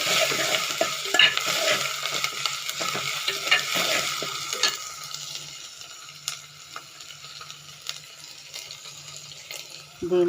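Spices and small onions fry for aloo kurma with close, busy stirring and scraping over a bright sizzle, strongest early, then easing to a quieter hiss with occasional clicks of the spoon against the pan.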